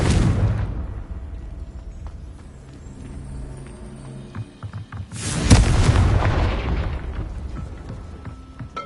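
A Confringo spell in the Hogwarts Legacy video game sets off a deep boom with a rumbling tail, and a second, louder blast comes a few seconds later.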